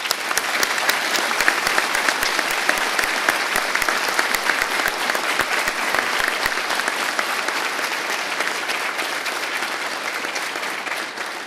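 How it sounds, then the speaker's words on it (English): A crowd at a fire academy recruit graduation applauds instructors, a long, even burst of dense clapping held at steady strength for over ten seconds with no talk. "Please join me in a round of applause."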